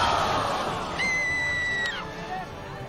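A high, sustained scream that slides slightly downward rings out over a dense, noisy soundtrack in a rock-rolling video game, lasting about a second before fading.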